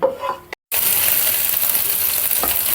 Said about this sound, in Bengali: এলাচ দারচিনি লবঙ্গ দিয়ে দিলাম ঘির মধ্যে ঘি দিয়েই ভাজা হবে